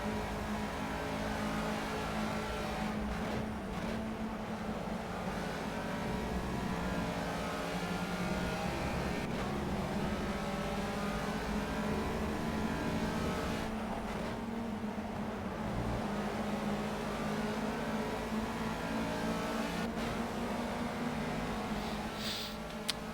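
Race car engine in the Project CARS racing game, a steady droning roar with shifting pitch running continuously and fairly loud, with faint gear and tire textures and no talking.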